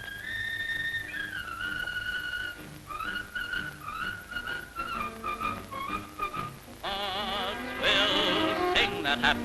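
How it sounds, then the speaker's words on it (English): Soldiers whistling a jaunty marching song together, the bright melody carried steadily by several whistlers and growing louder and busier near the end. "There is a song which the boys are singing and whistling as they march along the roads that lead to Paris and beyond."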